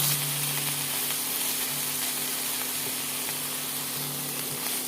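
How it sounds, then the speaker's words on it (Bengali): Onion and green chili paste frying steadily in a hot pan, a continuous close sizzle with a low hum underneath and no talking. "এবারে আমি এর মধ্যে পেঁয়াজ আর লঙ্কা বাটাটা দিয়ে দিচ্ছি"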